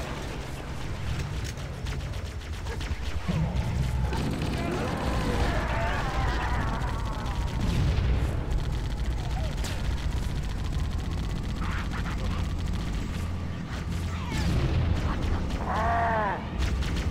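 Continuous gunfire and explosive booms in Halo: Combat Evolved, dense overlapping shots with mechanical whirs and a rumbling vehicle backdrop, with voices chatting over it.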